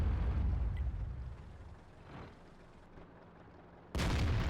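A tank gun fires in World of Tanks: a heavy booming shot at the start that fades into a rumbling tail, then another loud blast cuts in near the end.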